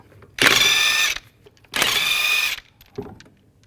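A power tool with a 22mm socket spins off lug nuts on a 2010-2017 Chevrolet Equinox rear wheel; two loud, close bursts of whirring rattle, each under a second, then a brief third blip, with no talking.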